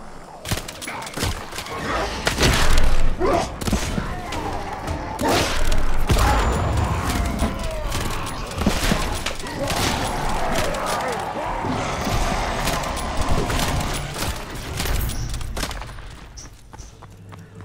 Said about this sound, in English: I'm just gonna keep shooting at that wall